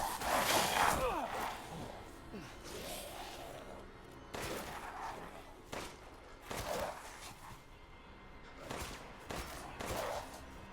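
Gunshots spaced every couple of seconds in the survival-horror game Resident Evil Village, each a sharp burst fading into a quieter ambient background, with no talk over them.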